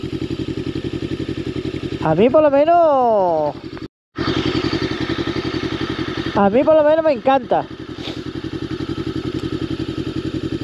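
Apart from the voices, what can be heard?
Voge 525 ACX 2023 motorcycle engine and exhaust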